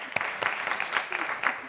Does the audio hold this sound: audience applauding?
yes